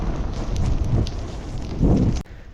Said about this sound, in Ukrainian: Ох, як гарно горить, який вітер, яка тяга.